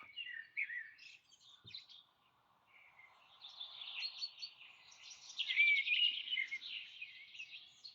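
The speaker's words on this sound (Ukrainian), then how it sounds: "І вона почала їм ставити спів пташок." Recorded birdsong, played indoors for flowering petunias, carries bright chirps and twittering phrases, thin and moderately quiet, swelling into a denser burst of song toward the end with no voices.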